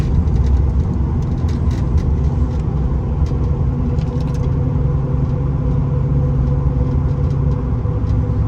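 A cheap truck engine drones steadily while driving, a loud continuous mid-range rumble with no clear gear changes and no talking.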